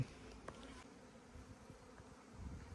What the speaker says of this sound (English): You see you get thousands of bees in the air.